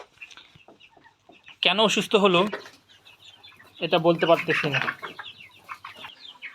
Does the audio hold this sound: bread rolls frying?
no